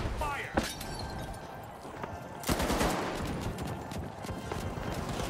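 Gunfire in The Finals, the video game: sharp shots crack out, with a louder burst partway through and more scattered rapid fire continuing under a busy mix of game noise.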